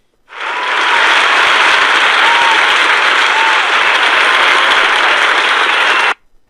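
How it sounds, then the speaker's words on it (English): A theatre audience applauds at the curtain call as the actors take their bows after a play: a loud, dense, sustained wash of clapping, steady for about six seconds before stopping abruptly. "the audience was letting out a huge applause as the actors were doing their bow and the curtain call"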